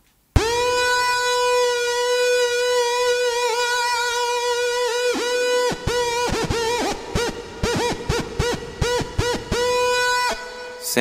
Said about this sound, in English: but you can use it like a theremin as well